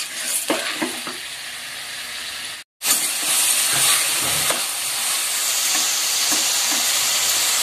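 Chicken curry sizzles and fries steadily in a pan, a dense continuous crackle broken by a brief silent cut, with faint stirring clinks underneath.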